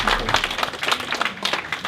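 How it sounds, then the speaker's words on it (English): An audience applauds at a Startup Weekend Manila event, with a burst of clapping of moderate loudness that carries on steadily for a couple of seconds. "A round of applause, please."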